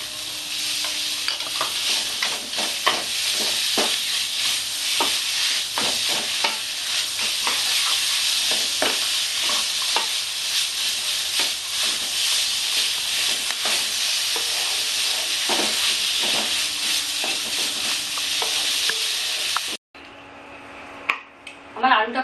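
Potatoes, spices and peanuts sautéing in a pan for Bengali-style aloo dimer chop, giving a steady close sizzle with repeated scraping stirs throughout, ending abruptly near the close.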